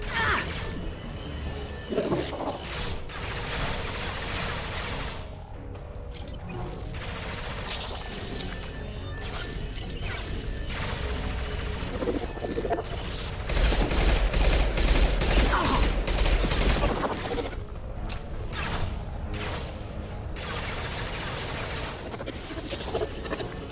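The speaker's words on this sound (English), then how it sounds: "Firing an impact shot!" In Mass Effect 2, a heavy impact shot goes off amid a dense, continuous barrage of game gunfire, crashes and mechanical clatter, loud and close throughout, with one fuller burst partway through.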